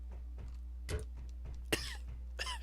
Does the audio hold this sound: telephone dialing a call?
no